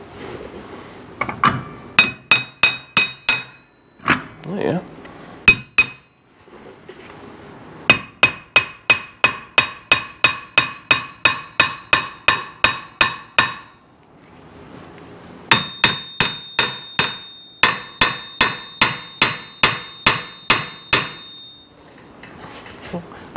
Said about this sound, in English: So put this in, and then, should just knock it with a hammer.